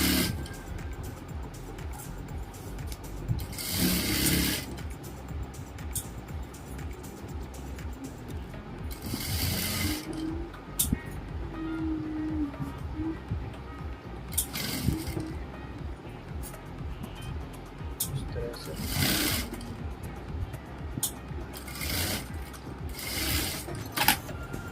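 A sewing machine stitching a patiala salwar rattles along close by in a steady mechanical patter, with brief louder bursts of faster running spread across the stretch.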